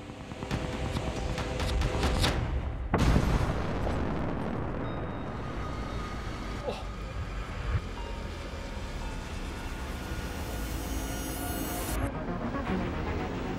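An explosive blast fired at a gravel quarry: a heavy, broad rumbling roar that swells with a sharp burst near the start and then rolls on continuously, loud and distant-sounding, with no voices.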